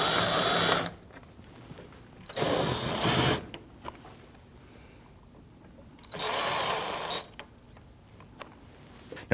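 A power driver tightens screws on a 2009-2017 Volvo XC60 3.2L six-cylinder front CV axle assembly, running in short whirring bursts of about a second each, separated by quiet pauses and small clicks.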